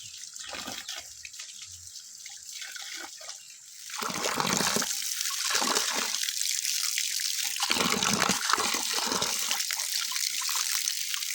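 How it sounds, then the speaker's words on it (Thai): Running water splashes and trickles as vegetables are rinsed by hand, starting in broken bursts and then flowing steadily and louder from about four seconds on. "เราจะเอามาแตงเอามาล้างเพราะว่ามันเปื้อน"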